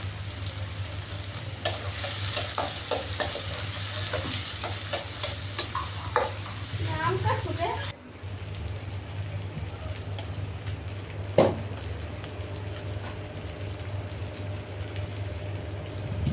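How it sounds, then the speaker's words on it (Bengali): Onions fry in hot oil, partly reused from frying fish, with a steady close sizzle and clattering spatula stirs throughout; the sizzle briefly dips midway, then resumes with an occasional louder scrape. "আর একটু তেল দিয়ে এরপর পেঁয়াজ দিয়ে দিলাম।"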